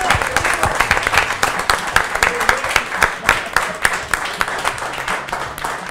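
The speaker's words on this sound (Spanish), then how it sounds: "Pido un fuerte aplauso" Studio audience applause on a Spanish-language cable TV game show, loud, close and sustained, with rapid overlapping claps and a few crowd voices mixed in.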